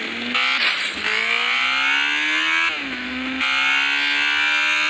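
A motorcycle engine in the Gangstar City video game, a loud steady whine rising in pitch as it accelerates, dipping briefly at gear changes and climbing again, with no talk.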